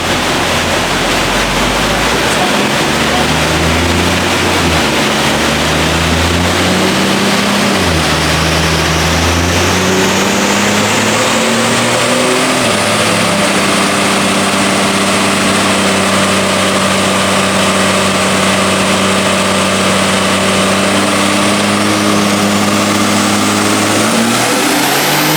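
A turbocharged Barra engine in a ute with a Pro Mod turbo and side-exit wastegate, running on a dyno: a loud, continuous drone with stepped revving that climbs and holds at high load, no voices.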